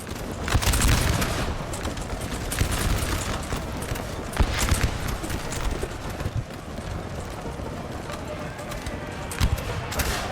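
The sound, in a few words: musket volley fire in Napoleon Total War video game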